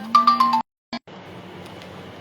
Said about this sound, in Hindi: एक वकील साहब का बार बार फोन आ रहा था